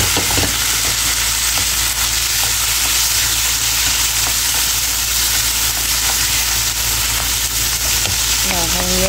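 Tomatoes frying in a hot pan during home cooking give off a loud, steady sizzle that crackles continuously from start to finish.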